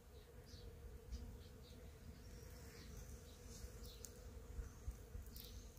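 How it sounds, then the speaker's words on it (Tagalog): Bees buzz among pear and other fruit trees in full bloom in a backyard in Croatia, a faint continuous hum over low outdoor background noise, with no talking. "Ayan, umuugong yung mga bubuyog."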